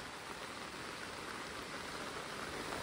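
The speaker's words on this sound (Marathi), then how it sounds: "पाऊस पडतोय" Steady rain falls continuously with an even hiss, no voices, holding at a constant level throughout.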